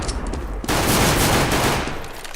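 A rapid burst of automatic gunfire in CS:GO follows a short lull, loud and dense and running close for nearly two seconds before easing off.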